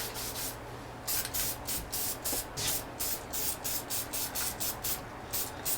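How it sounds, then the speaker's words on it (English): Repeated short bursts of spray, roughly a dozen quick pulses at a steady rhythm, hiss close by onto a woodworking bench where redwood is being worked, with no talking over them. "Just try not to spray my bench any more than absolutely necessary."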